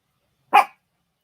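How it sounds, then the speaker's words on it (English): One sharp dog bark, close and loud, standing alone in silence. "My dog thinks that she wants to bark"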